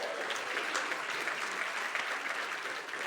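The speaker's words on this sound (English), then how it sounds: "Give Tristan one more round of applause." A church congregation claps for Tristan during a Sunday service, a brief, even round of applause from many hands, moderately distant and without voices.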